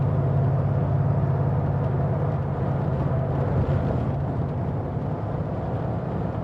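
A 1932 Ford Sedan cruises at a steady 55 mph on a smooth road, with a continuous low engine drone and rushing wind noise that stays loud and even throughout, with no talking.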